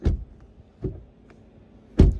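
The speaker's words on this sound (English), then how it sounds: "The doors on the Defender sound like this." Three dull, solid thuds of a Land Rover Defender door shutting, spaced apart with near silence between them, close by.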